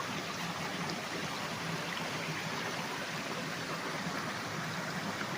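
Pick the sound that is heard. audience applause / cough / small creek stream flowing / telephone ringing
small creek stream flowing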